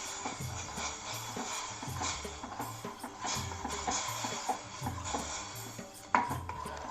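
A spoon scrapes and knocks steadily around a pot as jaggery dissolves for tea, making rhythmic, soft, close-up clinks and rubbing sounds that repeat over several seconds.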